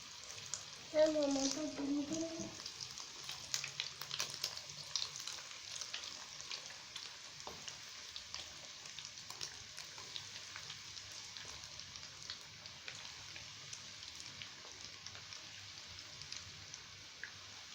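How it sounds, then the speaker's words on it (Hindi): Chicken lollipops frying in hot oil in a kadai over medium heat, a soft continuous sizzle and crackle throughout, with a brief voice near the start. "ये मैंने डाल दिए हैं चिकन लॉलीपॉप तलने के लिए"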